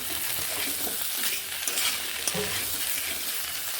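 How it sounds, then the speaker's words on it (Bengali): Potato and pea ghugni with chopped tomato sizzles in a pan, giving a continuous soft hiss with faint scrapes and stirring knocks, no voices present. "একটি টমেটো কুচিয়ে নিয়েছি সব একসঙ্গে বেশ ভালোভাবে কষিয়ে নেব"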